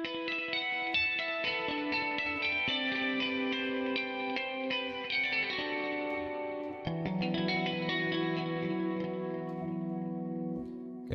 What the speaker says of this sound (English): We also have some kind of ethereal ambient kind of tones,